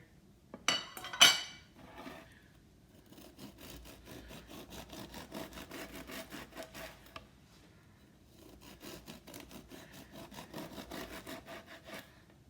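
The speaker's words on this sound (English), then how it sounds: "Let me make a few more slices here." A knife saws through a loaf of buttermilk bread in steady back-and-forth strokes, soft and close, with a couple of sharper knocks at the start and a short pause midway.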